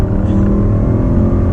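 Jaguar XKR supercharged V8 coupe with an Arden upgrade, its exhaust in sport mode with the valves open, giving a loud, close, continuous deep rumble with no talk over it.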